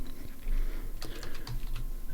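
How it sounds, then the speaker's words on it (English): Typing on a computer keyboard, with a quick run of close, crisp key clicks in an irregular rhythm over a low background hum, no talking. "apologize if you hear a bunch of keyboard noises"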